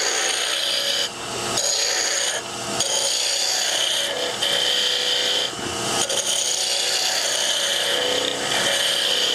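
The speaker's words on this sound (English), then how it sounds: "Then I can use my spindle roughing gouge." Wood spindle turning on a lathe, a spindle roughing gouge cutting the blank to rough it out, giving a loud continuous broadband rasping scrape with brief dips as the tool lifts and re-engages.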